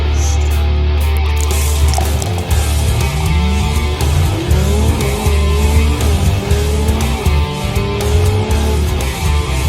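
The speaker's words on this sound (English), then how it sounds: "I hear a squealing noise." Lamborghini Huracan Evo tires squealing loudly under a roaring engine, with sustained rising and falling screeches throughout, close and dense, no talking.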